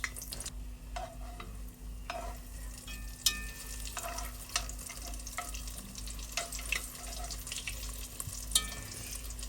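Corn tortillas frying in a pan inside an RV kitchen, a faint steady sizzle with occasional small pops and crackles, no voices.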